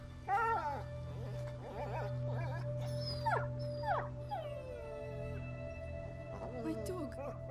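A dog whimpers and yips in a series of short, high, wavering cries over a low hum in A Plague Tale: Innocence, the whines coming in bursts with brief gaps.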